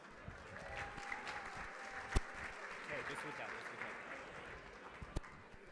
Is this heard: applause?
yes